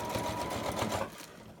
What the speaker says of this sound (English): you just start sewing your track onto your wig cap